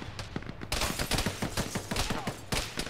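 Dense, rapid gunfire from several weapons rattles almost without pause in the Arma military video game during a ShackTac squad assault on a bunker, loud and close with overlapping bursts.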